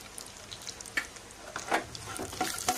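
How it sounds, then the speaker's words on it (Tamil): Cashews and raisins frying in ghee in a pan, with a soft continuous sizzle and stirring scrapes, plus a few brief clinks from the spoon. "இதுலயே முந்திரி திராட்சையும் வறுத்தறலாம்."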